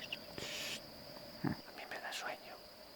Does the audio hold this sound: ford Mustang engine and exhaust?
no